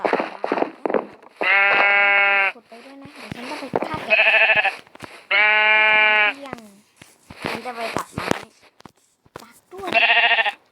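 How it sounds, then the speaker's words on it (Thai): Minecraft sheep bleat again and again, several loud, close, wavering cries separated by short gaps, with softer game sounds and some brief voice-like noises in between. "เดี๋ยวฉันจะหาแกะอีกตัวนึงก่อน"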